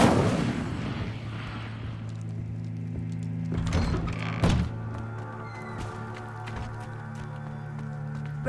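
A fire spell goes off in Hogwarts Legacy with a booming, thudding blast followed by sharp impacts and a sustained low rumble and hum, moderately loud with no talk over it.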